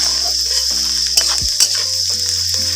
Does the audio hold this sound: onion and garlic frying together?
yes